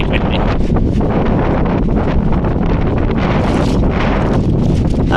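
Strong, steady wind on a seafront buffets the microphone with a loud, continuous roar and rumble throughout, no breaks or other clear sounds.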